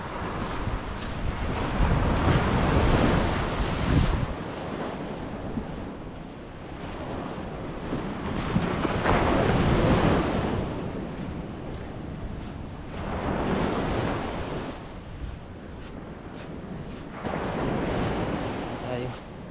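Floodwater rushes and churns steadily with a broad roar that swells and eases in waves, buffeted by wind gusts against the microphone.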